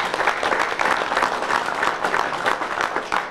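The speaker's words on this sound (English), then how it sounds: "Y'all need to give him and Secretary Klutz a round of applause." Crowd at a North Carolina press conference applauding for the state secretaries, a dense, loud wash of many hands clapping continuously and evenly throughout, with no talk over it.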